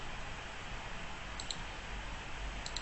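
A single soft mouse click on a Save button, faint and close against a quiet background hiss, repeated lightly a second time near the end.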